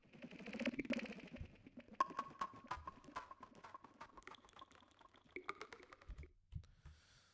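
Watery, bubbling sound played backwards, with swelling textures and smeared droplets that build and then cut off abruptly, heard alone.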